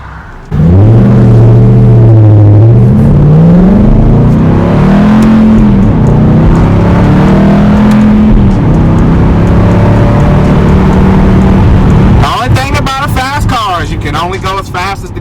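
A car accelerates hard through a turn, its engine note rising and falling in pitch as the revs climb, loud and close from inside the cabin, ending with a sharper burst of rapid revving.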